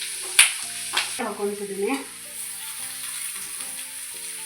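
Country chicken and masala fry in a pan with a soft sizzle and a few scraping stirs, fairly quiet beneath a steady background hum, while a voice speaks briefly.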